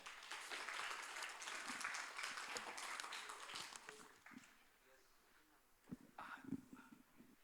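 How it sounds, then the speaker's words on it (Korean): A burst of applause from a church high school group at a Sunday service, loud and dense for several seconds, then thinning into scattered claps and murmurs. "의열이 나올 때 우리 박수."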